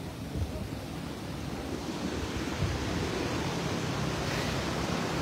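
A river stream flows in Kashmir as a steady, broadband rushing wash of water, even and unbroken throughout, with some wind-like roughness.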